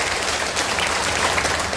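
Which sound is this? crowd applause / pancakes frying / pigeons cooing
crowd applause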